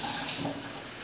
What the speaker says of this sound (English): We're gonna take 3 cups of water.